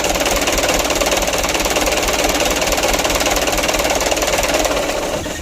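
Engine idling steadily on its own after an injection pump replacement, a close, loud, even knocking rumble that runs for about five seconds before easing slightly at the end.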